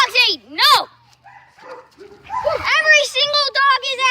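A small dog yips, whines and barks in quick high-pitched bursts outdoors, close by, mixed with excited children's voices calling out.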